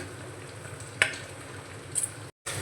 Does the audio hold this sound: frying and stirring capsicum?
yes